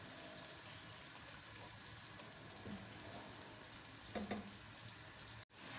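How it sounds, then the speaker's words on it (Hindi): Onions frying in a pan for chana dum biryani, turning red, a soft continuous sizzle with a couple of faint stirring clinks and a brief dropout near the end. "अब बस मैं प्याज को जो है अच्छा सा लाल कर लूँगी।"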